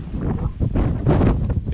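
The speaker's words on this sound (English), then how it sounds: "because it's windy." Wind buffets the microphone on a fishing pier in loud, uneven gusts, a steady low roar swelling and easing with no voices.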